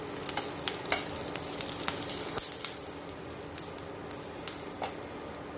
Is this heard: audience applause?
no